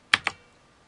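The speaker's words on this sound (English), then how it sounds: "we're going to begin by typing in" Two quick, crisp keystrokes on a computer keyboard, close and clear, as C code is typed in. No voices.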